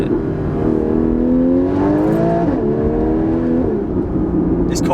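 Porsche 981 Cayman S engine heard from inside the car while driving, a strong steady drone that rises in pitch under acceleration and dips briefly at a gear change.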